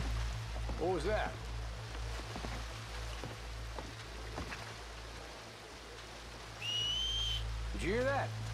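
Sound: whistling in video game Red Dead Redemption II

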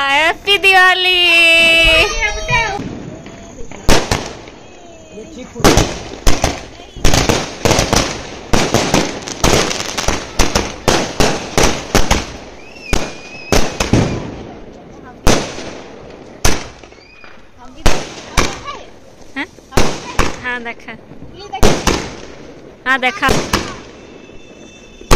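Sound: Diwali firecrackers and fireworks exploding

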